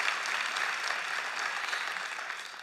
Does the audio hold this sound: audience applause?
yes